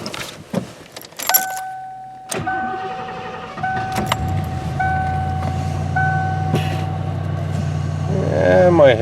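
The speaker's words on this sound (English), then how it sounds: "So now we can hop in, fire it up, and give it a little drive." A Ford Crown Victoria with freshly replaced brakes and axle seals, keys jangling and clicks inside the cabin before the engine cranks and settles into a steady idle, then a low rumble as it pulls away, with some talk inside.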